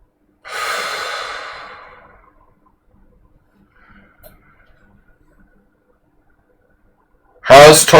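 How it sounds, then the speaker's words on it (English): A man does a deep breathing exercise: one long, loud, airy exhale close to the mic that fades over about two seconds, a few seconds of near silence, then a sudden loud burst of voice at the end. "I'm just going to do some breathing exercises now."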